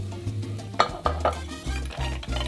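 Mussels with onion and garlic stirred in hot oil in a pan, a soft sizzle under repeated scraping and clinking of a utensil against the pan, close and moderately loud.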